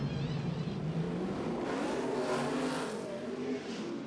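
A NASCAR Sprint Cup stock car, the No. 39 of Ryan Newman at the 2009 Kobalt Tools 500 in Atlanta, accelerates away off pit road with a loud, rising engine roar that climbs in pitch and holds steady throughout, with no talk over it.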